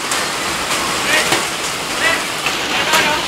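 Hailstones pelting down in a steady, dense hiss during an April 2013 hailstorm in Rodriguez, Rizal, with sharper scattered impacts rising out of the constant clatter, faint voices in the background.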